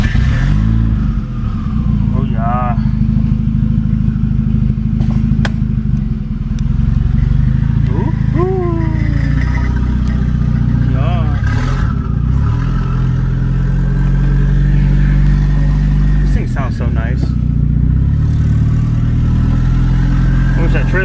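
A custom 1980s turbocharged car driving under steady, loud, droning engine noise, with rising and falling tonal whines as it shifts and accelerates; occasional clunks and rattles, and a voice talks briefly over the engine.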